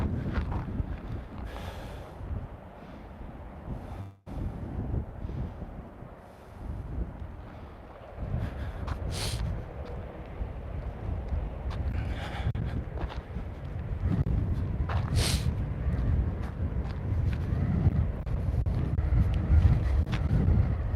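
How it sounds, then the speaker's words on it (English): Strong gusts buffet the microphone outdoors for twenty seconds, a loud broadband roar that rises and falls in pulses, growing heavier toward the end with occasional sharper bursts. "super windy."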